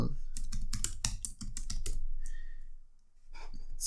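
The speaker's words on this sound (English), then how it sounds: "So let's type that in." Rapid typing on a computer keyboard, a quick burst of close, crisp key clicks followed by a brief pause and a few more keystrokes.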